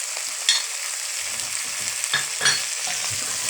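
Potatoes, peas and cabbage frying in a pan while being stirred, a continuous hissing sizzle with soft scraping strokes and light clicks of the spoon.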